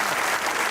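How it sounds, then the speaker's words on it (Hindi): Dense, steady studio-audience applause on a TV comedy talk show, cheering a guest named Mustafa. It is close and full, with no voices over it, and lasts under a second. "ताली होनी चाहिए मुस्तफा भाई के लिए"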